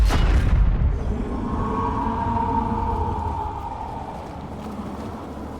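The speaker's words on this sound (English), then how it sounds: "gives us the ability to fire an artillery cannon at this monster blocking the way" An artillery cannon fires at a monster from a boat in REANIMAL: one deep, close boom at the start, followed by a long resonant rumbling decay with a droning, ringing tone, and no voices.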